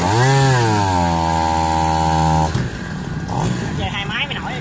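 A 40 cc brush cutter engine runs at a high, steady whine close by, then drops to a rougher idle as someone talks over it.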